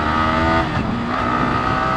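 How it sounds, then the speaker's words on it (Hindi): A Yamaha R15M motorcycle accelerates hard, its engine note rising steadily and loud and close, with a brief dip as a clutchless quickshifter upshift occurs, with no talking. "बिना क्लच दिए आराम से मैं शिफ्ट कर सकता हूं।"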